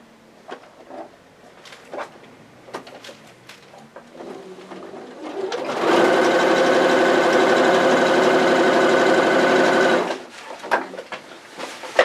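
A domestic sewing machine runs steadily for about four seconds, stitching the armhole seam of a pillowcase baby dress, loud and close, framed by quieter fabric handling and clicks before and after.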